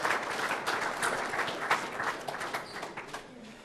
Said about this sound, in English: let's give a round of applause to yourself, the students here